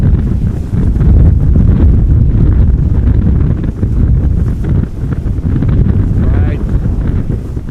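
Strong crosswind buffets a microphone outdoors at Amsterdam Schiphol Airport, a heavy low rumbling roar that gusts continuously, with someone speaking briefly underneath.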